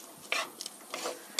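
Onion, garlic and carrot are stir-fried in a pan, with soft scraping stirs and faint sizzling in short bursts, close and quiet.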